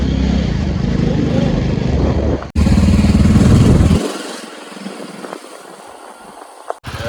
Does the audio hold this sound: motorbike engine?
yes